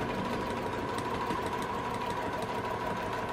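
A sewing machine stitches tote bag fabric in a steady, rapid mechanical whirr with even rhythmic clatter, continuous and fairly quiet throughout.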